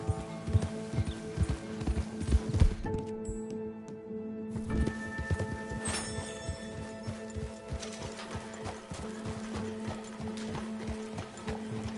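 Horse hooves clip-clop in a steady rhythm in Red Dead Redemption 2, with game-style ambience and occasional tonal effects; no one speaks.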